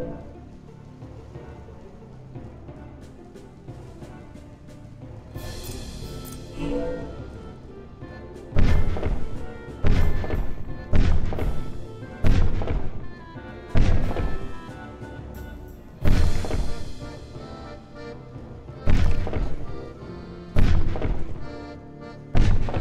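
Repeated bomb explosions in the twin-stick action RPG Rum & Gun: a run of loud, booming blasts, roughly eight to ten heavy hits spaced a second or two apart over a rumbling game backdrop.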